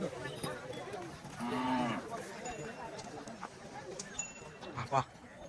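Bulls low and moo amid a busy outdoor cattle market crowd in Maharashtra, with murmuring voices and scattered clatter in the background.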